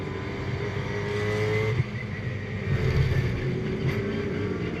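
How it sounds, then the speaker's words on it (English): A GT2 race car accelerates downhill during a Fanatec GT2 European Series race, its engine a close, steady roar that climbs in pitch, with a brief shift-like break partway through. "Back on board with Badet, then accelerating downhill."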